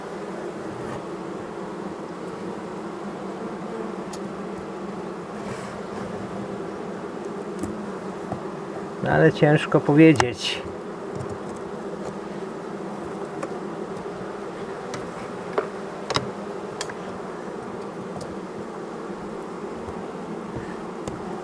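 Honeybees in a weak colony's hive give a low steady buzzing drone with faint scattered ticks, briefly broken by a short burst of louder handling noise and a few quiet spoken words.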